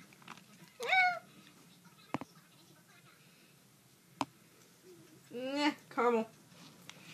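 A cat meows several times: one rising call early on, then a pair of louder meows near the end, with faint clicks and a quiet room between them.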